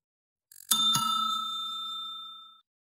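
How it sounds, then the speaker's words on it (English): A small tabletop bell rings twice in quick succession, two bright metallic dings whose clear tone rings on and fades over a couple of seconds, alone and close. "Well, that was the double bell."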